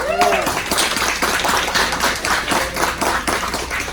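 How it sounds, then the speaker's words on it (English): Audience applause at a community roundtable: a dense, steady patter of many hands clapping, fairly loud and close, sustained evenly for several seconds without a break. "let's give a round of applause for Lunarium"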